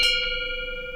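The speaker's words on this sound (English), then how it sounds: "That's the bell of love." A bell is struck once, ringing clear and bright with a long, shimmering decay, then a second light strike sounds just at the end.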